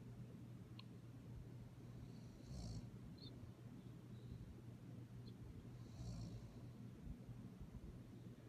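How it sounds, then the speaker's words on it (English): A woman snores softly through her nose while sleeping, with two faint breathy snores spaced a few seconds apart over a steady low hum. "I think it might be a snore coming from her nose."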